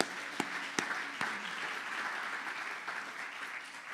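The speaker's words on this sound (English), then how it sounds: "If we can get a round of applause for them." An audience at a 150th anniversary celebration of a rawhide railroad applauding, a few sharp early claps swelling into a broad, steady round of clapping from a crowd at moderate distance.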